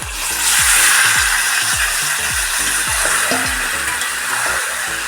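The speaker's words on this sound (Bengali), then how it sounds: "তবে আমি এই সবজিটা দিয়ে দিচ্ছি মশলার মধ্যে।" Mixed vegetables for a Bengali bagan chorchori sizzle steadily in spiced oil. A spatula scrapes and stirs in a quick repeating rhythm, loud and close, with no talking.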